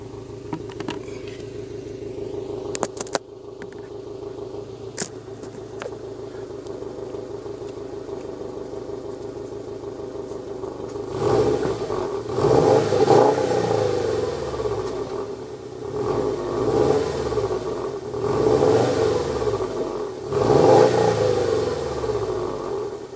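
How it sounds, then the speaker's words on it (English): A 2013 Subaru STI Limited sedan on its stock exhaust idles steadily, then is revved several times in quick bursts, each rise and fall clear and fairly close, with a subdued exhaust note. "Right now I just have the stock exhaust. I can give you some rev,"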